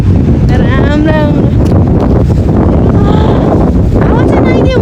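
Strong wind roars steadily against the microphone on an open boat under a blue sky, a constant loud rush throughout, with people talking over it.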